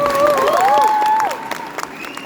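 A concert audience at Lorcaquest applauds and whistles, a bright wavering whistle over clapping that quickly thins to a few scattered claps.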